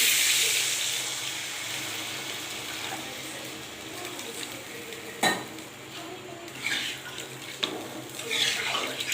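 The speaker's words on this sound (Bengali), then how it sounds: "আমি এখন জলটা দিয়ে দিচ্ছি।" Water poured into a pan of dum aloo curry, a steady rushing wash with a faint sizzle that runs throughout, punctuated by a few brief clinks and surges of pouring.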